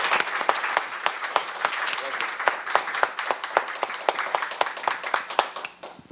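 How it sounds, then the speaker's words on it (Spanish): Audience at a talk on disability and society gives a doctor warm applause. Loud, dense clapping with crisp individual claps keeps up steadily before tapering off near the end, with some voices mixed in. "Entonces démosle un caluroso aplauso al doctor y agradecimiento."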